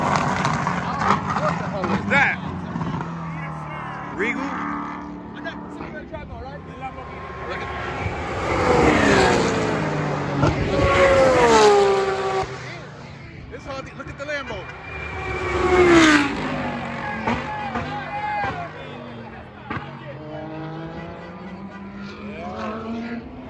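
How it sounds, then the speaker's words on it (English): A Lamborghini drifting at a Formula Drift 2021 event roars past with loud engine revs that rise and fall in sweeping waves, heard from trackside amid crowd noise while people talk nearby. "They got a Lambo coming. Watch."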